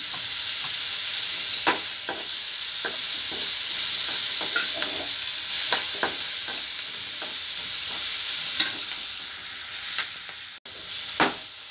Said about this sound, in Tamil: இப்போ நம்மளுக்கு இந்த அளவுக்கு வதங்கினா போதும்.